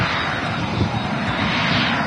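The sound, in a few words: Gulf Air Boeing 787 Dreamliner landing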